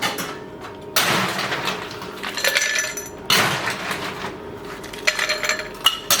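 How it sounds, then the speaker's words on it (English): Ice cubes clink and rattle into a cocktail glass in a few sharp, close bursts of hard chinking, with quiet pauses between drops. "So I will put some ice."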